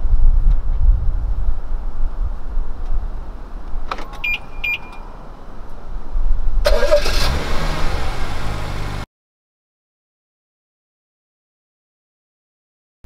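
A few short electronic chirps sound, then a BMW's engine cranks and catches via remote starter, idling briefly before the sound cuts off into silence.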